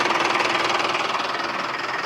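Mahindra Arjun tractor engine revved at the silencer after a tappet setting, a close, loud rapid knocking exhaust beat with steady rhythmic pulses, no talk.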